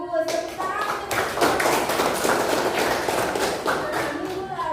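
Students clap together in an Indonesian classroom, a dense, lively burst of applause close by that keeps going for several seconds, with children's voices mixed in underneath.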